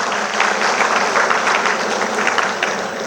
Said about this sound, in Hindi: उनके लिए भी दिल से बहुत बहुत दुआएं और ज़ोरदार तालियां